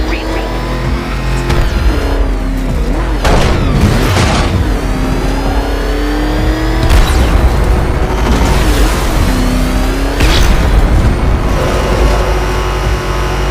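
The Batmobile in the Batman Arkham Knight video game revs and boosts loudly, its engine pitch rising and falling in repeated surges punctuated by booming thumps.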